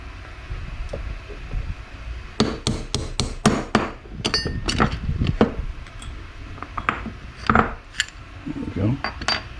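Sharp metallic hammer strikes knocking out a metal pin from a Delta-Rockwell band saw tracking adjuster, a quick run of evenly spaced blows followed by scattered heavier knocks, close by with no talking.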